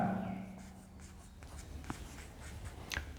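A pen scratches softly across paper as an accounting journal entry for a partnership's bank account is written by hand, faint, close scribbles following a brief voice and continuing quietly.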